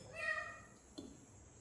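A small kitten gives one faint, thin meow close by in a quiet kitchen where samosa tamarind sauce is being made, followed by a soft low rustle.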